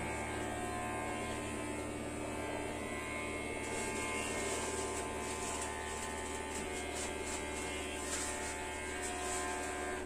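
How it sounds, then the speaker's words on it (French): A freshly oiled electric hair clipper runs at rest, giving a faint, steady buzzing hum with a constant drone throughout and no voices. "Donc maintenant, je prends l'autre tondeuse."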